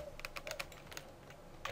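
Someone types on a computer keyboard: a quick, faint burst of clicking keystrokes, close up, with no talking.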